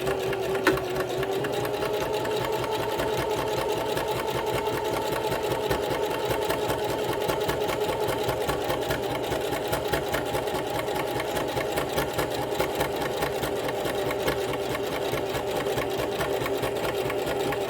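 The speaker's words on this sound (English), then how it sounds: "I'm going to put the needle down in the fabric. Put my presser foot down." A sewing machine stitches a flat felled seam in one continuous, even run of rapid needle clatter and motor hum, close and steady for the whole stretch, with no talking.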